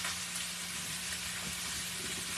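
Food browning in a hot cast iron skillet for a Sunday dinner gives off a steady, fairly soft sizzle and hiss that holds evenly throughout with no voices.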